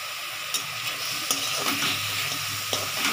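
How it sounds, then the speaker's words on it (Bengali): Raw onion sizzles in hot oil for a fish curry, a steady loud frying hiss with occasional light knocks of a stirring spoon against the pan. "কাঁচা পেঁয়াজটা আমি এর মধ্যে একটু হালকা ছেড়ে দেবো"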